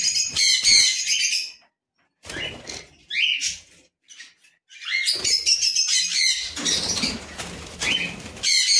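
Several pet budgies in an aviary loft chirp and tweet in quick high bursts, close by, mixed with fluttering wing flaps, with a short quiet gap in the middle.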